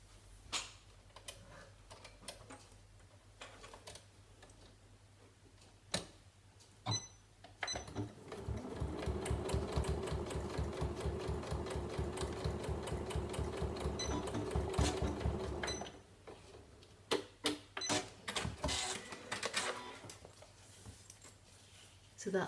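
A sewing machine top stitches a double pocket zip bag, a rapid rhythmic run of about eight seconds in the middle, framed by quieter handling clicks and brief bursts of stitching before and after.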